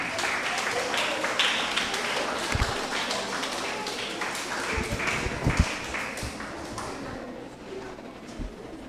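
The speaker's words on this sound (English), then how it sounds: "let's clap for them once again" A school contest audience claps steadily throughout, with dense applause from many hands and a few louder taps, tapering slightly at the end.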